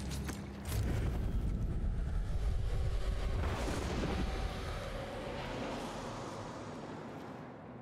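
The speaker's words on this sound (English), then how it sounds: "What was that explosion? Oh, crossbow explosive." An explosive crossbow bolt goes off in the Hunt: Showdown video game, a loud, heavy blast that erupts suddenly and then rumbles and roars on for several seconds before slowly dying away, with no voices.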